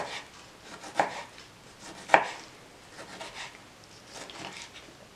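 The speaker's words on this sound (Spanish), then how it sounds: "Y los vamos a picar así en cuadritos muy chiquitos." A knife chops tomatoes into small cubes on a cutting board, a series of soft, close taps with two sharper knocks, recorded quietly in a home kitchen.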